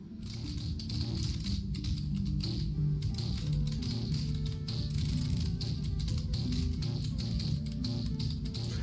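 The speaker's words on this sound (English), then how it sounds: "Why is he slamming his keyboard so hard?" Someone hammers a computer keyboard hard while playing a game, a rapid, dense clatter of keystrokes, loud and continuous like Morse code, with no talking.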